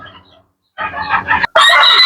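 Close chickens clucking and squawking in short bursts, separated by a brief silence, with a sharp click midway.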